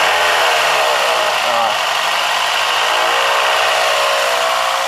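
A car engine held at about 2000 RPM runs alongside its whirring radiator fan, a loud, even drone that stays constant throughout.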